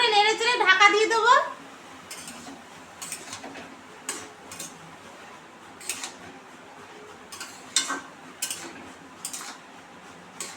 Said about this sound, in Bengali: লাউটা একটু ভালো করে নেড়ে চেড়ে ঢাকা দিয়ে দেবো।